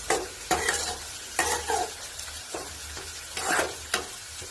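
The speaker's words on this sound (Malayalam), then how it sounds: "അപ്പോൾ അത് ഇതിലേക്ക് ആഡ് ചെയ്തിട്ട് നല്ലോണം ഇളക്കി കൊടുക്കുക" A spoon stirs beetroot thoran with grated coconut in a hot pan, producing repeated scraping strokes over a soft continuous sizzle, close and fairly quiet, with no talking.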